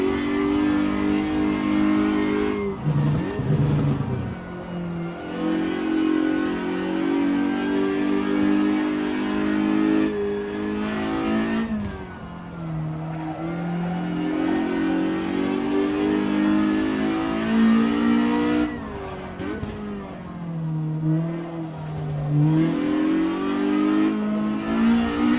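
Several race car engines in Assetto Corsa at Ahvenisto drone and rev close by, rising and falling through gear changes and corners in a continuous loud roar with no talk.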